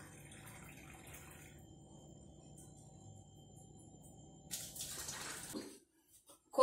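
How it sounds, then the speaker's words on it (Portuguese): Filtered water, three cups measured out, poured into a blender jar for chocolate oat milk, a brief splashing pour near the end after a quiet kitchen background. "E a gente vai juntar aqui 3 xícaras de água filtrada"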